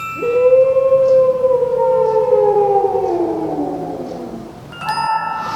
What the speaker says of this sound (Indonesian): Dan tiba-tiba ia mendengar suara auman.